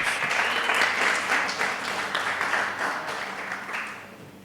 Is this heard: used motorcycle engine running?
no